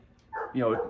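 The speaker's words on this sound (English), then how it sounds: "if you hear some barking, that's our dog wanting to go out" A single short dog bark or yelp, fairly close, with a brief whining tone after it, over a quiet background.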